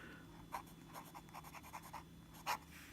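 A matte black Lamy Al-Star fountain pen with a medium nib writing on paper, a quiet close-up series of soft scratchy strokes in an uneven rhythm over a faint hum.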